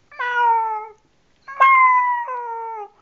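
A person imitates a cat's meow in two drawn-out, clear meows with a short pause between them, close and loud with no other sound.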